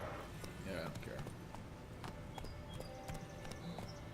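Roach the horse's hooves clip-clop in The Witcher 3 video game, a steady trotting rhythm with an occasional whinny, moderately near, while a voice talks over it.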